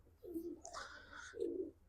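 Pigeons in a Punjabi loft give a couple of low, soft coos, separated by a brief gap, close by and alone in quiet surroundings.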